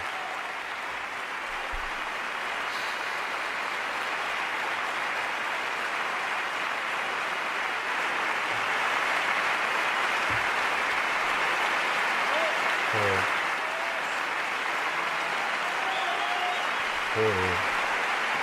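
Audience applause rolls on steadily for a long stretch, a soft, distant, even patter of many hands, with a few faint voices and scattered knocks underneath.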